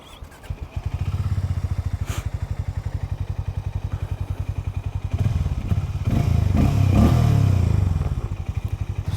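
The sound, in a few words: Hero Hunk 440 motorcycle engine starting up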